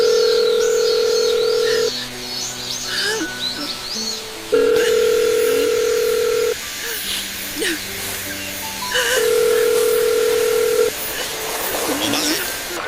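Telephone tone heard while placing a call: a loud, steady electronic tone sounding in three long stretches separated by quieter gaps with faint background noise.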